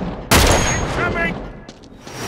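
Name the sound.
gunfire in the video game Uncharted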